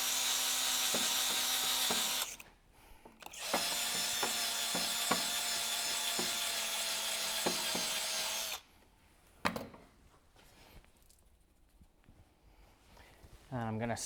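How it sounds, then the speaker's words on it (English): A drill spinning a round bristle brush scrubs the caliper bores of a 2012-2017 Toyota Camry front brake, a loud whirring buzz in two bursts separated by a short pause, with clicks and handling noises after it stops. "I've got a round bristle brush. This one happens to be on a drill, which makes it nice. And I'm going to scrub those bores."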